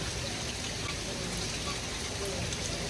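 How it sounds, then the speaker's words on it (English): Steady rain falling outdoors, a dense, even hiss with soft patter that holds constant throughout, close and moderately loud with no distinct drops standing out. "But the sound of rain is actually relaxing."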